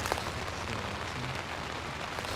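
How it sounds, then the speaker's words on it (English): Rain falls steadily on a tent, a dense, even patter of drops close overhead with no other sounds. "we're just in the tent out of the rain"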